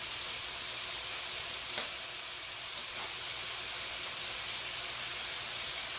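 Seasoned ground meat for sloppy joes cooks in a pan, giving a soft, steady sizzle and hiss with a faint clink or two, fairly quiet and with no talk.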